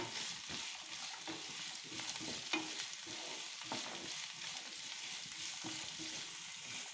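Chopped carrot and onion sauté in a pan, giving a soft, steady sizzle broken by frequent scraping stirs, all fairly quiet and close.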